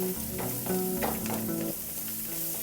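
Onion, tomato, garlic and chilli sizzle steadily in a pan while being stirred, with scraping strokes recurring under a constant frying hiss; no voices.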